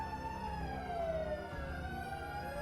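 Fire engine siren sounding during an emergency response drill at a rail depot, a steady wailing tone that sweeps slowly up and down, loud and continuous with traffic rumble beneath it.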